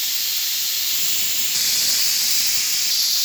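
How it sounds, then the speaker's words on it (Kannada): A pressure cooker whistle vents steam while rice cooks, a loud, steady high hiss that holds on and swells slightly partway through, with no voices. "ಈಗ ಕುಕ್ಕರ್ 3 ವಿಸಿಲ್ ಬಂದಿದೆ."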